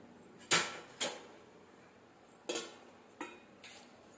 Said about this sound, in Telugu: దీనిపైన మూత పెట్టుకుందాం.